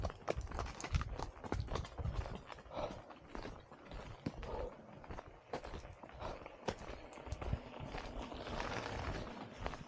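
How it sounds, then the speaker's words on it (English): Horses walking on an outdoor hiking route in a nature area near Maastricht, hooves clip-clopping in a loose, uneven rhythm against steady outdoor background noise, fairly close. "I got distracted by the horses."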